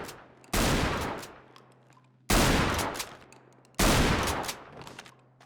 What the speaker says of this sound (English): LAPD's shotgun, which is super awesome, very unique.